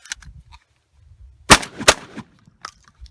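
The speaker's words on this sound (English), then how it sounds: "I've got some Rio low recoil buckshot. See how she runs the buckshot." A Benelli Super Black Eagle 3 semi-auto shotgun fires low recoil buckshot, two loud close blasts about half a second apart, with faint mechanical clicks around them.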